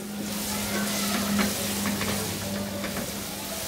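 Chopped bottle gourd and bitter gourd frying in a pan with a little salt, giving a steady, moderate sizzle with faint stirring clicks throughout and no talking.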